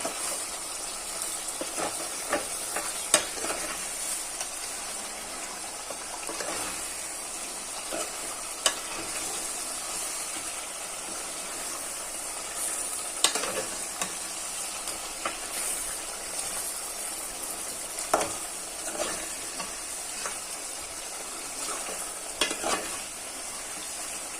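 Chicken frying in a pan with a steady close sizzle and hiss, broken by scraping clicks of a utensil stirring the pieces throughout.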